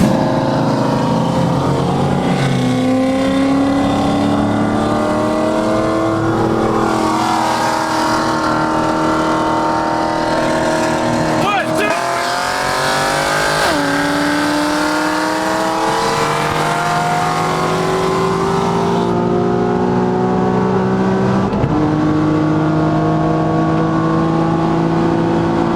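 A big single-turbo Nissan 370Z racing a 900 HP Corvette, loud and close, with engines roaring and climbing through repeated upshifts, pitch dropping at each gear change before rising again, continuous throughout.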